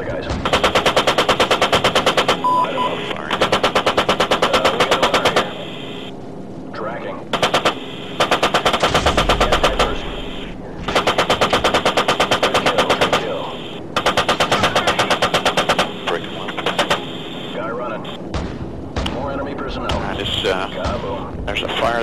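An AC-130 gunship firing on ground targets, long loud bursts of rapid automatic cannon fire repeating in several volleys with short gaps and heavy low booms, while radio voices talk between and over the bursts.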